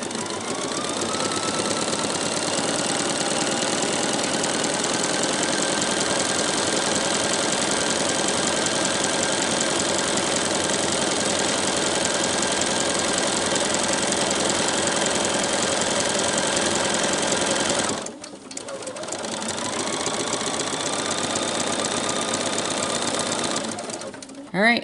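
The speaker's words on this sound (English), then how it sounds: "I'm going to tell it I'm ready to sew. And I'm just going to touch my presser foot." A domestic sewing machine stitches festive advent calendar fabric in one long steady mechanical whir, close and loud, stopping briefly near the end, then running again before a short final knock.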